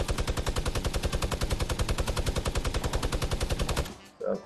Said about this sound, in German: Ich sniper ihn.